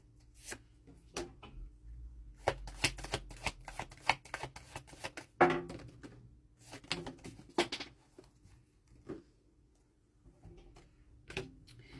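Tarot cards being shuffled for a reading, a run of crisp riffling and flicking bursts with brief pauses, close up and unaccompanied by talk.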